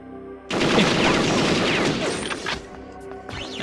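Gunfire in the video game Perfect Dark, a loud sustained burst of rapid shots and crashing impacts after a brief lull, tapering into scattered echoing shots and clatter toward the end.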